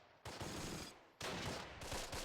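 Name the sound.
infantry gun firing in video game Close Combat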